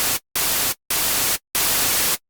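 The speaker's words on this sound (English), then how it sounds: "So that's our white noise coming through like that" Synthesizer white noise run through a filter with an envelope, sounding as four loud hissing bursts separated by short silences, the last burst slightly longer.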